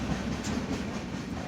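A Konkan Railway passenger train runs steadily, its wheels clattering in a continuous rumbling rhythm heard from inside the carriage, loud and unbroken, with no talking.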